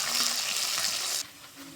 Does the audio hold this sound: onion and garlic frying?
yes